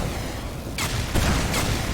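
Shooting at a crumbling structure in the video game Aperture Desk Job, with three sharp, loud impacts spaced over a steady roar of debris and gunfire, close and without talk.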